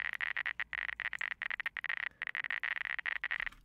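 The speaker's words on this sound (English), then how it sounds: "into a Geiger counter sound" Dense, rapid irregular clicking with a synthetic edge, bursts of crackles separated by brief gaps, fairly loud and alone.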